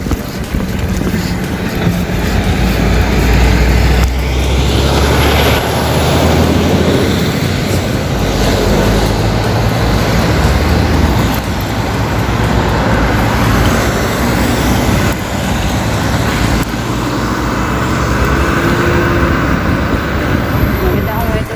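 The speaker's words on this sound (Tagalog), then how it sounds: "May truck." A truck passes on a road during a road trip, a loud, close, rumbling roar of tyres and engine that builds and fades within continuous traffic noise, with people talking faintly underneath.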